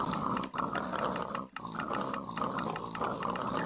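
Pigs in a video game oink and grunt in a steady, dense chorus, with the overlapping calls broken by two brief dips.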